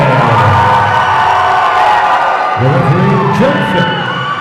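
A crowd at an amateur MMA event cheers and whoops loudly for a fighter, a dense wall of shouts and yells up close that swells partway through.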